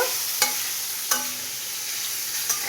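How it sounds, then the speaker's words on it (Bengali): Ingredients hit hot oil in a pan and keep frying with a bright, constant sizzle, while a few quick clinks and scrapes of stirring cut through, close and fairly loud. "এবার তেলটা গরম হয়ে গেছে, আমি তেলের মধ্যে এগুলো দিয়ে দেবো"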